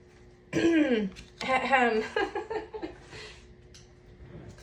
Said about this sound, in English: I have to clear my throat a lot